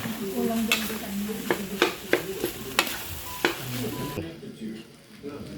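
Garlic sizzles in a pan during home holiday cooking while a utensil stirs and scrapes against the pan in repeated sharp knocks, close up under a steady frying hiss, ending with a quieter stretch.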